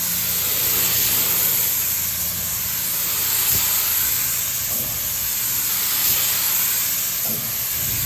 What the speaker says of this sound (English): All right, now let's mix that up and let's get it in the gun and start spraying. I'll be using a Leonardo spraying gun.